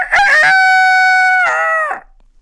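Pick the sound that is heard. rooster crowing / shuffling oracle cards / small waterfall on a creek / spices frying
rooster crowing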